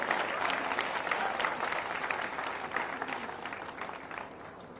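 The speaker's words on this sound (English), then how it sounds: "So a big round of applause for her." Sustained applause from an audience at a speech event in Delhi, a steady dense patter of many hands clapping throughout, fairly loud and continuous before tapering slightly at the end.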